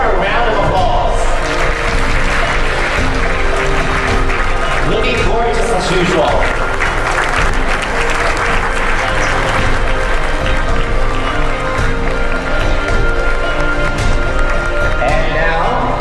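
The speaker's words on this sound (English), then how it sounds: "Let's give her a round of applause." Guests at an anniversary celebration give a steady round of applause, a dense crowd clapping that continues underneath a speaker talking over a microphone.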